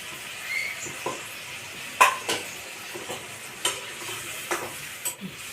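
Spiced water and Kashmiri chili fry in a pan, a soft sizzle broken by sharp scraping clinks of a spoon stirring against the metal, loud and close.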